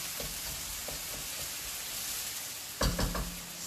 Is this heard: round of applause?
no